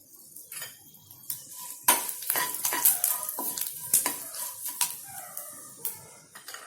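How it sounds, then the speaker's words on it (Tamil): Curry leaves and about four dried red chillies roasting in a pan, with a quiet crackling sizzle under sharp, irregular metal spoon scrapes and clinks against the pan, close and without talk. "கொஞ்சம் வறுத்துக்கிட்டு"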